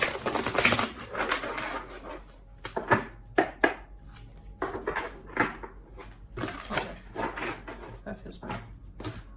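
Tarot cards are shuffled in a quick series of crisp, riffling bursts with short pauses between them, close and fairly quiet.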